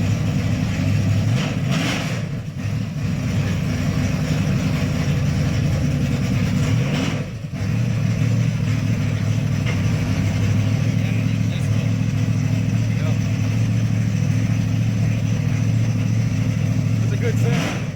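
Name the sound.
1969 Dodge Charger 440 V8 engine revving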